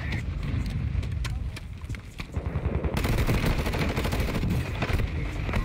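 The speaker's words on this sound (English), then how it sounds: "Oh, that mortar put me down." A mortar strike in the Warzone 2 video game: sustained rapid gunfire and explosive blasts, loud and dense, swelling into a heavier barrage partway through.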